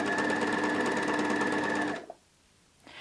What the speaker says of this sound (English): If I place my foot on the foot control and my presser foot is down, I can simply chain out.